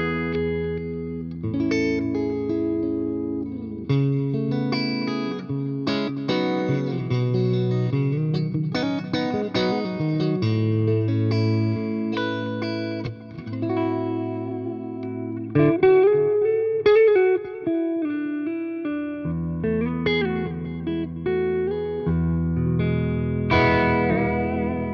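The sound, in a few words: guitar reverb and delay from Mooer Ocean Machine effects loop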